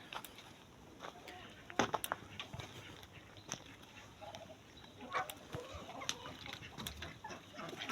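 Backyard chickens cluck and scratch around a coop shared with a rooster and ducks, with scattered soft clucks, pecking and rustles at close range, fairly quiet overall.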